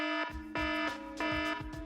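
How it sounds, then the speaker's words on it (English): An alarm sounds from an Alexa smart speaker as a bright, electronic buzzing tone that pulses on and off in a fast, steady rhythm. It is loud and continuous, with no talking. "Turn off the alarm."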